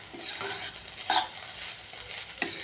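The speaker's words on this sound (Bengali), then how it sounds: "সামান্য একটু মিষ্টি দিয়ে নেড়ে চেড়ে একদম শুকনো শুকনো করে এই নাবাচ্ছি" Fried potato and onion greens, lightly sweetened, are stirred dry in a pan. A low sizzle runs throughout, and two distinct scraping stirs come about a second apart, with no talking.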